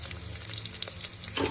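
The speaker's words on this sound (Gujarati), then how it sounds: "આ બધી વસ્તુને આપણે 1 મિનિટ માટે સાંતળી લઈશું." Green chillies, white sesame seeds and cashew pieces sauté in a hot pan for a fasting-day dish, giving a steady close sizzle with small crackles and a brief stir near the end, no talk.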